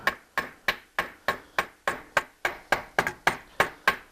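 A hammer strikes aluminum sheet being shaped for a homebuilt metal aircraft, about thirteen sharp, evenly spaced ringing blows close up, with no talk.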